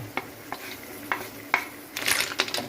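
Onions sautéing in a pan for a seashell supper dish, with a soft background sizzle broken by several sharp stirring and utensil clicks against the pan, ending in a louder burst of frying.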